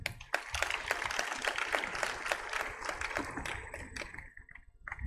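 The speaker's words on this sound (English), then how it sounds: "I think that applause" Audience applause breaks out at a road crash victims conference in Abuja, Nigeria, once a speech ends. The clapping is dense and sustained, then thins to a few scattered claps near the close.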